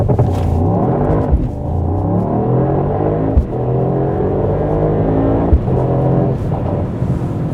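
Mercedes-AMG GT 63 launching hard from standstill to 100 km/h, its engine roaring loud and close with rising revs, brief dips at each gear shift, and tires spinning despite all-wheel drive.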